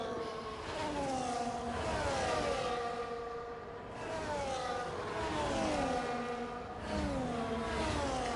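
Formula 1 race cars in the F1 24 video game rolling toward their grid slots at the Brazilian Grand Prix, a layered drone of several engines rising and falling in pitch in waves, moderately loud, with no talk.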